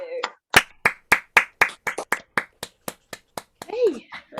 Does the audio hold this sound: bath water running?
no